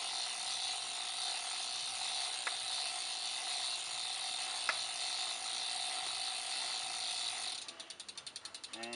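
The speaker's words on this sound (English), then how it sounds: "So now I'll pedal forward on the small ring. I'll backpedal some more." A Canyon bicycle being cleaned has its drivetrain turned, and for most of the clip a steady whirring ratchet-like drone plays, broken by two sharp ticks. Near the end it changes to a quick, evenly spaced train of freewheel clicks.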